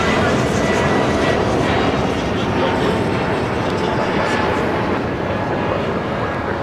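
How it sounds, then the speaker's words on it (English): Broad roaring rumble of an Airbus A220-300 taking off, steady and loud throughout, with a voice talking under it. "A220-300 taking off"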